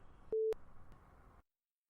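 A telephone busy signal after a call is hung up: one loud steady tone burst standing out over faint line noise, then the line goes silent.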